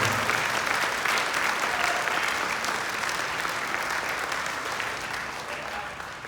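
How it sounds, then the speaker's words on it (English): Steady, loud applause from a community band concert audience honoring Bob, dense and continuous throughout, gradually tapering slightly toward the end. "have another round of applause for Bob"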